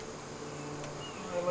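Honeybees buzz continuously around a beehive, a close, steady droning hum that rises slightly at the end.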